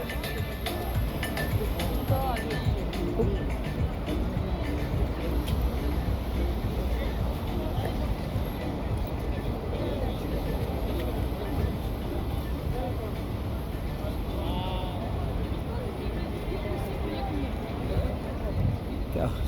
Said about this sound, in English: So it's the sounds of Kiev.